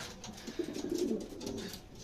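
Soft, low cooing of pigeons, a few murmuring calls blending together over a faint outdoor background, fairly close and moderately quiet.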